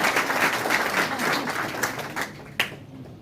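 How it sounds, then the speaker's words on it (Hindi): A loud, dense round of audience applause at a gathering, steady clapping throughout that thins toward the end with one sharp clap standing out. "जोरदार तालियां।"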